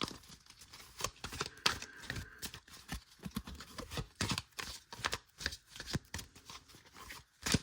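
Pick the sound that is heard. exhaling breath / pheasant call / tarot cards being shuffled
tarot cards being shuffled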